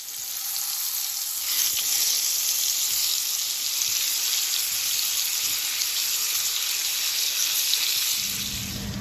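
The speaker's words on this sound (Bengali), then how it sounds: "তো পটলটা ভাজি করব" Slices of pointed gourd (potol) fry in a pan with a steady, loud sizzle that carries on without a break, close by and with no talk over it.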